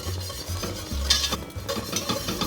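A whisk working sauce for trash can nachos in a pot over medium-high heat as it comes to a boil, giving a steady scraping swish with faint metallic clinks and a soft simmering hiss, close and alone.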